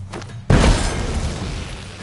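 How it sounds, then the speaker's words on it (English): A bomb exploding in the video game The Witcher 3: a near, loud boom that hits suddenly after a brief quiet stretch, then decays into a long rumbling wash of debris and noise. "Throw a bomb."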